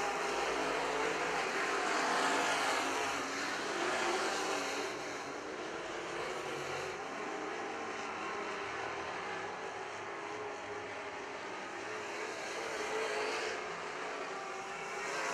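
Wissota Super Stock race cars roar around the dirt oval at St. Croix Speedway, a steady loud blend of engines from several cars running together with no break and no talk.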